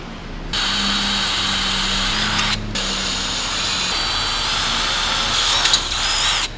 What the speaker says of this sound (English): take a 3mm drill bit and begin drilling out your pilot holes as marked on the template